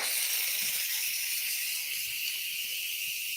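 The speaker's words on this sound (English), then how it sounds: "when I turn the knob and release the steam" Steam hisses steadily from a pressure cooker's quick-release valve while a spicy peanut and sweet potato soup cooks, a loud, continuous high rush with no pauses or talk.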